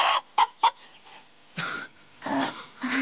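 A rooster clucks in several short, sharp bursts close by, with gaps between the calls and no voices.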